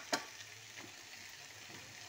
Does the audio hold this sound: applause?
no